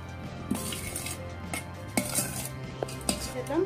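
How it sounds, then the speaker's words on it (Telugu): A spoon scrapes and clinks against a bowl while vada batter with salt is mixed for curd vada, giving irregular close, light knocks and taps over a quiet background. "ఇంకా బాగా మిక్స్ చేసుకోవాలి"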